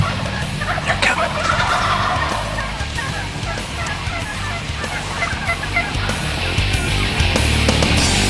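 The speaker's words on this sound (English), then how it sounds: "This is Western River Bottom Turkeys" Wild river-bottom turkeys in Nebraska gobbling repeatedly in a flock, loud and close outdoors with overlapping calls and honking fowl sounds.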